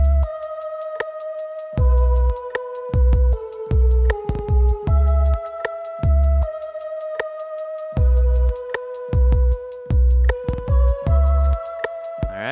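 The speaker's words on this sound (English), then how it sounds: "if we play the melody with the bass and the drums" A melody plays over punchy bass and a busy trap drum pattern with rapid hi-hats, the looping phrase repeating steadily and loud with no voices.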